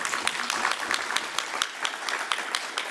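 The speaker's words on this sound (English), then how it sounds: "No, give Mallory another round of applause" At a Battle Creek community transit event, an audience applauds Mallory again with brisk, moderately loud clapping from a crowd, individual claps standing out in an uneven rhythm.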